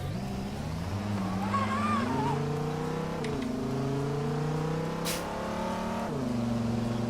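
Dodge Challenger engine in Euro Truck Simulator 2, a steady loud drone that rises in pitch through repeated accelerations with gear-change dips, close and continuous with no talk.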